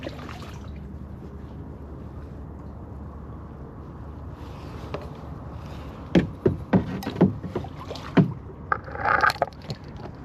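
A kayak paddle dips and pulls through a calm, glassy sea off the Florida coast, a few soft splashes and drips in an irregular rhythm after quiet moments of gentle wind noise, close by.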